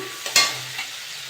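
Prawns coated with salt and turmeric drop into a hot pan, giving a brief sharp sizzle burst followed by a fading frying hiss and a light stir, close up with no talking.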